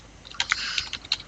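Fingers tap quickly on a computer keyboard in a short, uneven burst of crisp clicks, close and fairly quiet with no talking.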